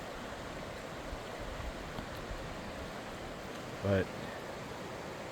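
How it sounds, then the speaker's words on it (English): A fast-flowing flooded creek gives off a steady, distant rushing wash of water, fairly faint, with a single brief spoken word partway through. "Went from a calm little tiny creek to fast raging waters"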